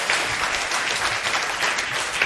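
Dense, steady applause from an audience at a sports debate between party leaders in Amsterdam, a continuous wash of clapping filling the short span without pause.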